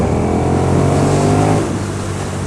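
KTM 1290 Super Duke R motorcycle fitted with a Pipeworks stubby exhaust, a loud, close engine drone that holds steady, then drops off on overrun partway through, with no talking.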